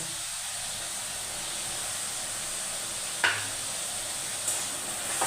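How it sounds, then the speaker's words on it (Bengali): Ginger garlic paste sizzling in a hot pan for a bottle gourd and shrimp dish, a steady soft hiss with a couple of brief scrape-like stirring knocks near the end, close and alone. "দিয়ে আদা রসুনটা একটু ভালো করে নেড়ে দিই।"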